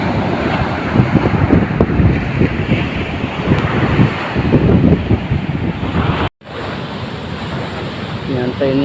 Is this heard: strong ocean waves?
yes